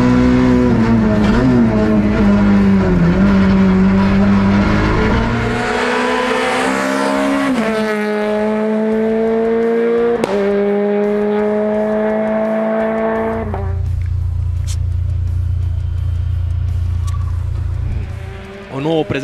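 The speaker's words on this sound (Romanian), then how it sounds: "din nou un Peugeot 208, data asta Mihai Aurel Beldie." Peugeot 208 race car at speed during a Trofeul Audi 2021 race, loud engine roaring and shifting pitch through gear changes, with a commentator speaking over the car noise.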